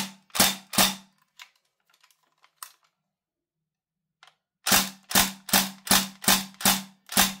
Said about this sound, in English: We've got an empty mag with CO2 to show you what this thing shoots like.